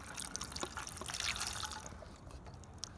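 Water splashes and trickles over a toy dump truck at a play car wash, a close, continuous wet rush with small drips, no voices.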